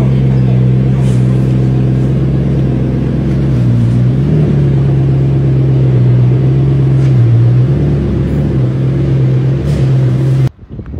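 A Bugatti Chiron with a damaged tire and rim pulls in, its engine giving a loud, steady low rumble close by that shifts pitch slightly before cutting off abruptly near the end.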